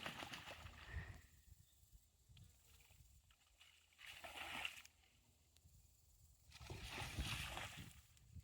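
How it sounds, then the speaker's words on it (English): French bulldogs splashing in a backyard fish pond: a few separate bursts of sloshing water over quiet surroundings, the last burst the longest and loudest. "The dogs are excited because they're splashing around."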